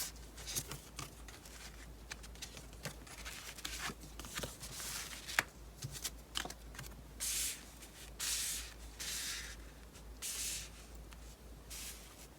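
Tarot cards are shuffled and drawn at a reading table, producing soft papery rustles and brushing swishes with a few sharper flicks and taps, fairly close and quiet, with no talking.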